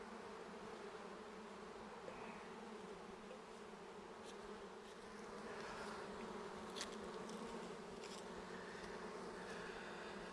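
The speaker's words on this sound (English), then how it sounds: "One armful of bees." A dense, continuous drone of many honey bees buzzing close by, steady and loud, with occasional faint knocks and rustles.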